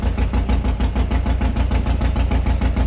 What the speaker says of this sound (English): It's a very noisy bike.